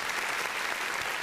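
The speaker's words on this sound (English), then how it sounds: "Round of applause" A brief, dense burst of crowd applause, steady and fairly loud throughout.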